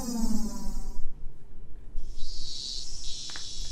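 Cicadas droning loudly on a hot morning in the Higurashi game, a dense buzzing chorus that cuts out briefly and then resumes with a high, steady whine.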